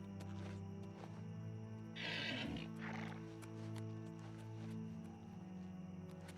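A summoned horse in the video game Oblivion Remaster neighs once, a short whinny rising over steady game ambience and background music, fairly faint.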